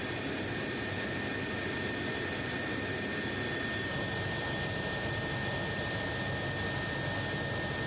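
Cabin noise inside an Alidaunia scheduled helicopter in flight: a constant broadband turbine roar with steady high whining tones, loud and unbroken throughout, with no voices.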